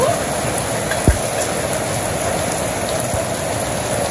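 Rainfall in a Bangladesh village keeps up a constant, close wash of drops striking the ground and roofs, broken only by one brief low thud early on.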